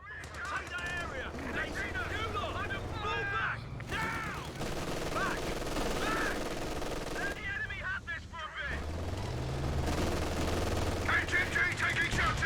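Heavy machine gun fire rattles in continuous loud bursts during a Company of Heroes 2 battle, with brief pauses between strings of rapid shots and shouted voices mixed in over the din.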